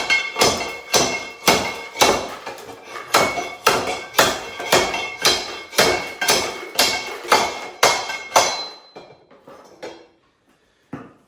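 A steel bolt repeatedly strikes hard rock gold ore samples in a mortar. Sharp, loud, close blows come at a steady rhythm of about one per second. They soften into a few scattered taps near the end, and no one talks.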